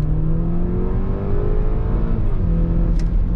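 A 2013 BMW X1 28i with a 2.0 turbo engine and 245 hp drives along, heard from inside the cabin as a loud, steady engine drone with the pitch rising slightly under acceleration.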